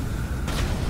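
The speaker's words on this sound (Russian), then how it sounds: "Да, он взрывает заправку" Gas station explosion set off by a dragon in GTA 5, a brief loud boom bursting over a dense rumbling background.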